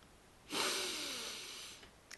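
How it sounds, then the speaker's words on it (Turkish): One deep, airy inhalation drawn in close to the microphone, lasting over a second, followed by quiet. "şöyle derin bir nefes aldınız"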